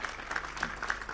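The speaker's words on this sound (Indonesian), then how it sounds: "Wah tepuk tangan untuk Gunung Kidul" Clapping from a crowd at a religious gathering in an Islamic boarding school, applauding the people from Gunung Kidul, a brief steady patter of many hands close by.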